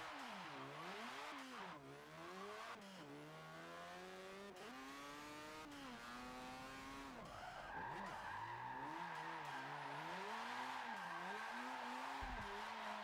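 A Mazda RX7 drifting in Forza Motorsport 7 screams with a high revving engine whose pitch swoops up and down, overlaid by steady, loud tire squeal and wheelspin that grows stronger and continuous in the second half.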